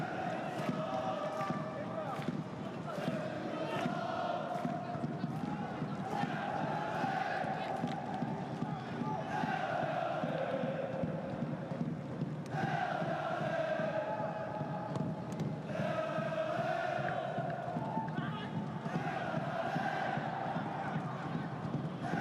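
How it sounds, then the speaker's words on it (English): Crowd at a football stadium during an AFC Champions League Elite match between Ulsan HD and Chengdu Rongcheng, a steady roar that swells in repeated waves of chanting and cheering, heard from a distance under the wide broadcast ambience. "You can hear the crowd, who were pretty quiet for the first hour and a quarter, suddenly found their voice."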